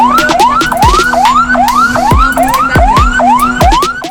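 An ambulance siren wails loud and close, sweeping up in fast repeated rising whoops about twice a second, with no voices over it.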